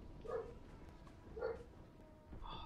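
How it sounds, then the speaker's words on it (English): Dogs in the Mass Effect 3 video game bark in a few short, distinct yelps, spaced about a second apart, faint and somewhat distant over a low game background rumble. "Dogs."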